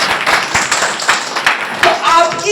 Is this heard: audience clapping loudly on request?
yes